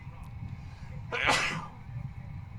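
A single sharp, close sneeze bursts out over a faint, steady background hum, then quiet noise returns.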